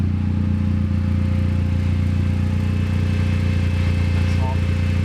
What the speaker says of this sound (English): So there's the fans just come on.